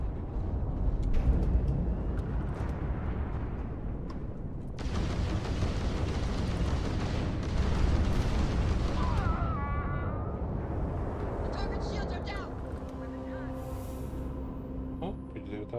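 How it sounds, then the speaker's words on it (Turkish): Explosions go off in the space video game Starfield, a dense rumble of heavy booms and blasts that fills most of the clip before easing into quieter debris and tonal effects. "Patladı."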